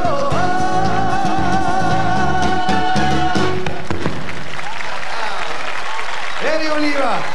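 A Swedish sing-along concert crowd breaks into loud, continuous applause and cheering right after a song, with a performer's voice and lingering music heard over the roar.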